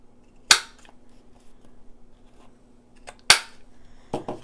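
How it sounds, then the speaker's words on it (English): A small corner rounder punch snaps through the corners of a paper Christmas pocket tag, with two sharp, close clicks about three seconds apart, then a softer crunch near the end over a quiet background. "now I want to round the corners. Take my little corner rounder."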